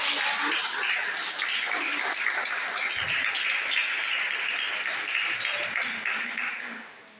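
A congregation at a church service for a women's Dorcas group claps for the Lord, a sustained even wash of applause that continues steadily and tapers slightly at the close.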